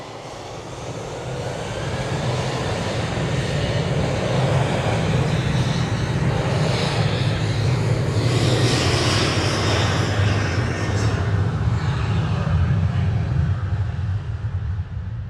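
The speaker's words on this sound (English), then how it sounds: "Aer Lingus 206 from Dublin." An Aer Lingus airliner arriving from Dublin at Manchester Airport builds from a softer rumble into a loud, sustained engine roar that peaks midway and holds steady, heard alone without speech.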